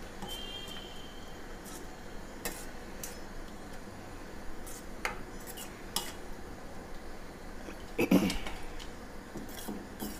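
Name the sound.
stirring tomato puree into spinach, potato and lentil dish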